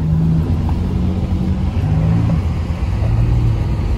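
A Pontiac G8 engine drones loud and close while racing, a continuous rumbling roar with shifting pitch as it revs through gears.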